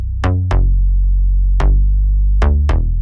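Heavyweight bass from the Afro Labs plugin plays an Afro dancehall groove: five deep booming notes over a continuous low rumble, each with a bright plucked attack, in a loose syncopated pattern, loud and alone.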